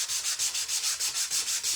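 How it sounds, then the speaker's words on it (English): Sanding sponge rubbed back and forth over a stencilled surface to remove leftover stencil adhesive, making a steady, close rasping scrub in about nine even strokes with no talking. "We're just gonna take our sponge, sanding sponge,"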